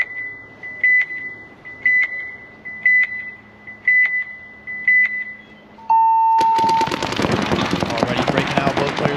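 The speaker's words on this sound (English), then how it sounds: "But 10-second timer on the clock." Official 10-second match timer beeping in five evenly spaced, clear tones, a longer final tone at the end, then a loud burst of crowd and play noise.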